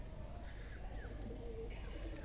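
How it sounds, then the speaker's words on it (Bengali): Pigeons coo softly on a rooftop in the early winter morning. A few low, rolling calls rise faintly over a quiet outdoor hush. "কবুতরগুলো অসাধারণ ডাকতেছে"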